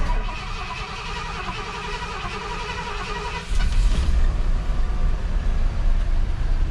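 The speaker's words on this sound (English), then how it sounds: "So let's get this thing fired up and see what happens." A 1978 Ford F100 engine is started after an ignition problem; a lighter mechanical churn gives way partway through to a louder, deep, steady rumble as the engine catches and runs.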